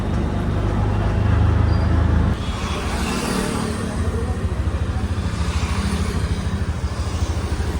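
An auto rickshaw engine rumbles with a steady rapid throb, beneath a broad wash of road noise during a ride through Mumbai traffic to Juhu Beach.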